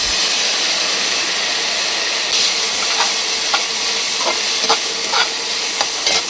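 Peas and beans hit hot oil in a stir-fry for spicy Korean noodles on an induction cooktop, a loud, dense, continuous sizzle close up, with brief scraping stirs breaking through near the end.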